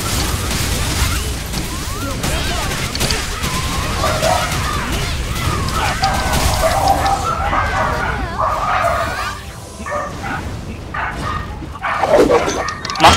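Dogs in the Rune Dragon Nest hardcore raid of Dragon Nest INA barking and yipping repeatedly amid dense game effects and combat noise, with players talking over the din throughout.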